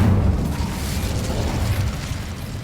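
Incendio fire spell in a Harry Potter video game: a loud whooshing, rumbling blast that starts strong and slowly fades into a sustained roar, with no talking.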